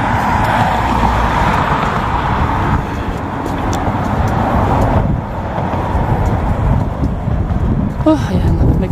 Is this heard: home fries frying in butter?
no